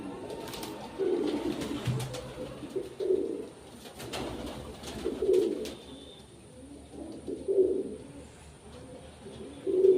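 A Kasuri pigeon with blood-red eyes coos in repeated low, soft phrases at a steady rhythm, close by, with faint background ambience and no talk.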